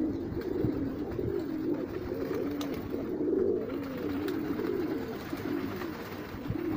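Pigeons cooing steadily inside a loft, a continuous overlapping murmur of many birds close by, with occasional light clicks and rustles.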